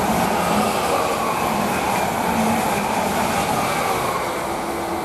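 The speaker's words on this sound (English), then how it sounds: "Now I've got another train" A Class 745 train rolls through Romford station with a loud, steady rumble of wheels and motors close by, a faint squeal riding over the roar throughout, and no voices.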